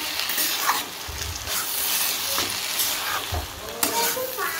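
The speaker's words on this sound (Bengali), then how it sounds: "দেখো ভালো করে মিক্সিং করে নেবো এই ডালটা" Dal is stirred and mixed in a hot pan, a continuous close sizzle with repeated scraping strokes of a spoon against the pan.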